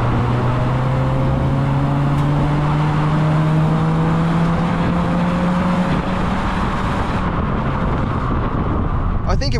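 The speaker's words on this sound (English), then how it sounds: "engine revs even more and it kind of just holds the gears, kicks down a bit sooner." A 2024 Mazda3 with the 2-litre engine revs up under load while driving, holding a rising drone that climbs steadily in pitch before easing off near the end, heard from inside the cabin.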